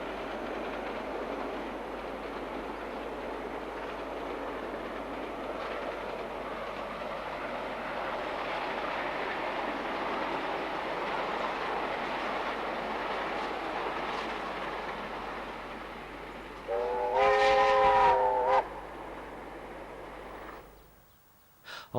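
DXR 8007 diesel locomotive hauling a Railway Enthusiast Society excursion from Auckland to Hamilton, crossing the swamp between Pokeno and Mercer: a long steady rumble of engine and rolling wheels, then a loud horn blast near the end before the sound cuts away.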